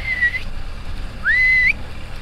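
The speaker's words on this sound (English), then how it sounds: "We got a whistle every once in a while just to let other boaters know we're coming through" A boat's whistle on the water: two high, clear tones over a low background rumble, a short one, then a longer steady blast a second later.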